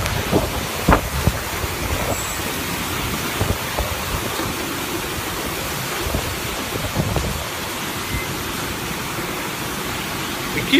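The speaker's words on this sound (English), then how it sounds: "this wind." Strong storm wind roars in steady, dense, broadband gusts beneath a ceiling, loud and continuous throughout with no voices.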